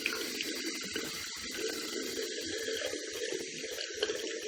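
Water running from a tap or spray while a hairpiece is soaked, a steady wet rush with small splashy breaks, close and fairly quiet, no talking.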